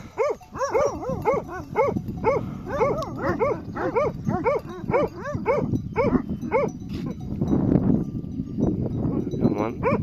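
Shepherd dogs bark in a rapid, repeated volley, close and loud, beside a goat pen, with snarling and scuffling noise building toward the end as the animals clash.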